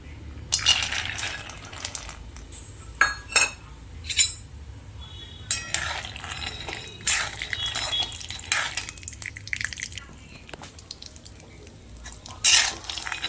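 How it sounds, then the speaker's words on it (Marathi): Sesame and other ingredients fry in hot homemade ghee over a low gas flame, with a soft steady sizzle under intermittent clinks and scrapes of a spoon stirring against the pan. "इकडे तूप गरम झाले आता मी कमी गॅसवरती हे सर्व फ्राय करून घेणार आहे"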